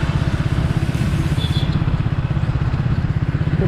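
A Triumph Speed 400 single-cylinder motorcycle thrums steadily at low speed in fifth gear, its engine and exhaust giving a close, continuous rhythmic pulsing with no talk over it.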